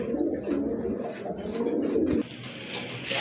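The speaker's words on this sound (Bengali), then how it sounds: "খুবই ভালো মানের এক জোড়া কবুতর হতে পারে এটা" Pigeons at a bird market coo in low, throaty, continuous murmuring rolls close by, with faint high bird chirps in the background.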